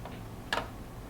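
A single short computer mouse click sounds as a menu bar is clicked, crisp and isolated against quiet room tone.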